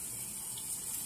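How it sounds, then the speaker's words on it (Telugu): Water pours steadily into rice in a pressure cooker while chicken biryani is being made, a short, even, low-level rush heard alone. "తర్వాత 2 లోటాలకి 4 గ్లాసులు వాటర్ యాడ్ చేసుకున్నాను."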